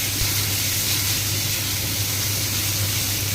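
Tomato dropped into hot oil with ginger and garlic for chicken pulao gives a steady, loud sizzling hiss that holds evenly throughout, with no voices over it.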